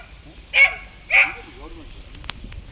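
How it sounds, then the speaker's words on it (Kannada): A farm dog on a rural Chikkamagaluru sugarcane plot barks at visitors: two sharp, close barks about half a second apart, then quiet. "ನಾಯಿ ಯಾರೋ ಬಂದ್ಬಿಟ್ಟಿದ್ದಾರೆ ಕಳ್ಳರು ಅಂತ ನಮ್ಮನ್ನ ಹೊಗಳ್ತೈತೆ"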